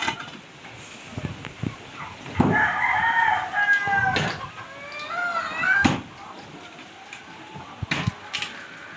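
A rooster crows nearby, a drawn-out call over background clucks and scattered knocks and thumps.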